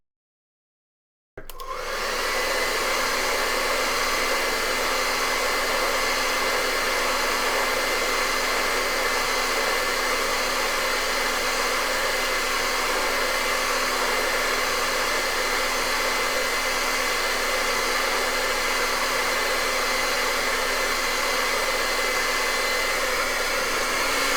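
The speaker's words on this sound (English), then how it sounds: "can we take a minute and dry that, John, real quick?" A hair dryer blows steadily and loudly on a freshly painted acrylic layer, switching on after a brief silence and running as a continuous whoosh with a fixed motor hum, with no talking.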